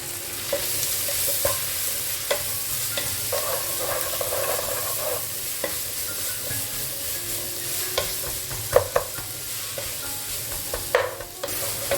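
Six medium onions sautéing with salt in a pan for a pomfret biryani, a steady loud sizzle with repeated scraping stirs and occasional utensil knocks throughout.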